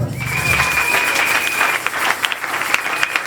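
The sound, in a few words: church congregation applauding for Jesus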